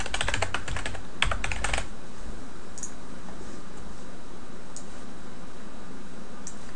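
A quick burst of computer keyboard typing, a name entered in rapid close clicks for under two seconds, then near quiet with a few faint later taps.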